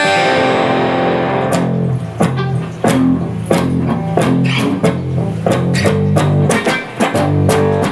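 Electric guitar in an alternate tuning, played alone with a loud, steady stream of picked notes and ringing chords in a rhythmic pattern, lightly driven tone.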